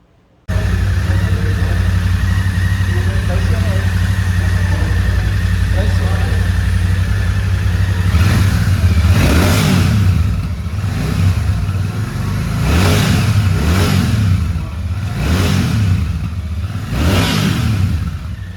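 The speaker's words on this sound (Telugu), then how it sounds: "ఒకసారి ఎగ్జాస్ట్ నోట్ వినండి." A 2024 Royal Enfield Shotgun 650 twin-cylinder motorcycle idling with a steady deep exhaust burble, then revved in several sharp repeated blips, loud and close.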